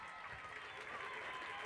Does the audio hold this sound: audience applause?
yes